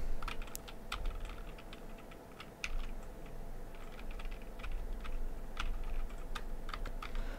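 Rapid computer keyboard keystrokes clatter throughout, irregular clusters of sharp clicks at close range over a steady low background hum, with no talking.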